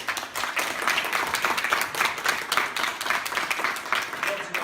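An audience at a community talk on the subconscious mind applauds the speaker, a full, steady wash of many hands clapping that continues for the whole stretch.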